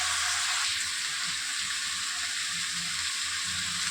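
Kundri (ivy gourd), potato and chili vegetables frying in a pan, making a steady, close, hissing sizzle that runs unbroken for the whole stretch with no talking.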